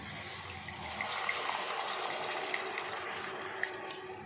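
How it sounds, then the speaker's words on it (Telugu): Tamarind juice poured into a pan of egg curry gives a soft, steady liquid trickle and splash, quiet and close, lasting a few seconds with no talk. "ఈ పులుసు పోసి చక్కగా మనం తిప్పామనుకోండి"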